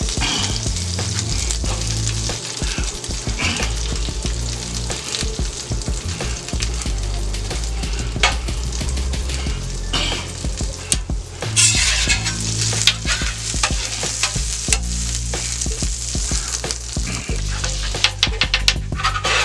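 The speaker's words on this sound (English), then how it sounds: "Throw the salmon down right there on top of my garlic butter." Salmon fillets sizzling on garlic butter on a Steelmade flat top griddle, a loud, dense, continuous crackle and hiss with sharp pops throughout, close up and with no talking.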